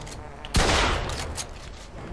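Shotgun blast in the Mafia II video game, a single loud broadband boom at about half a second that rings out and decays over the rest of the clip, with faint game ambience before it.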